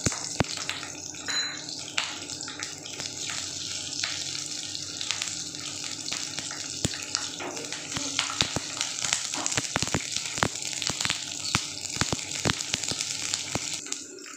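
Onions sizzling and crackling steadily in hot mustard oil, a continuous frying hiss with frequent sharp pops and spits throughout, close and fairly loud.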